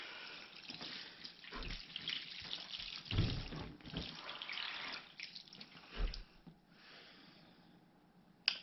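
Aged tap water poured onto worm bedding in a bag, a steady close splashing and trickling stream that fades toward the end, with a sharp clunk at the finish and no talking.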